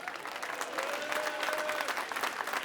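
Audience applause fills a political rally hall in Montreuil, a steady crowd clapping at moderate volume throughout, with a faint voice or tone running beneath it.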